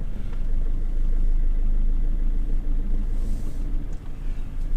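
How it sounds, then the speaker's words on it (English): An Iveco Daily campervan rolls slowly around a car park, giving a steady low engine rumble close by that swells and dips slightly as it moves. "I'll just have a drive around this car park so you can see what it's like with a view from the top"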